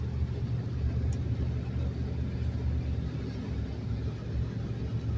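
A car drives along a road near an old Michigan dam, heard from inside the cabin as a low, steady engine rumble and road hum at moderate volume with no speech.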